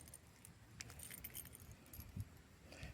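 A bunch of keys jangles faintly with light metallic rattles while a new lock is being fitted, a few soft thumps mixed in, quiet and close.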